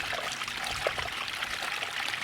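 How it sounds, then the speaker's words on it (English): A garden waterfall water feature trickles and bubbles steadily throughout, a close, continuous splashing flow with no voices. "as you can see, it looks lovely bubbling up like that"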